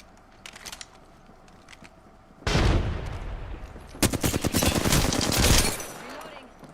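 Rapid automatic gunfire in the shooter game Apex Legends, including the Wingman pistol and R99 submachine gun, bursts loudly after a quieter opening, with a crack of single shots and a long sustained spray of close fire.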